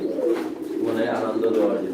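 Fancy pigeons at a pigeon farm in Biswanath, Sylhet, coo in a low, continuous, throaty murmur that stays steady and fairly close throughout.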